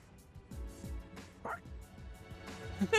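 A dog barks in the Persona 3 Reload video game, a few short yips and woofs mixed in with game music and character talk.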